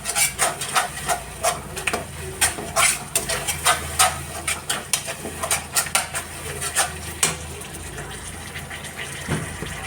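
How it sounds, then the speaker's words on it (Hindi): A spatula clatters and scrapes in a pan while spice masala fries for an Indian banana curry, a quick uneven rhythm of close, sharp knocks over a soft background hiss. "तो देखिए मसाला भून रहे हैं।"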